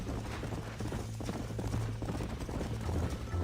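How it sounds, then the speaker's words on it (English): Rapid horse hoofbeats in the video game Red Dead Redemption clip-clop continuously over a low rumble, a galloping rhythm that stays steady and close throughout. "I think you chose the wrong horse, Miss McFarland"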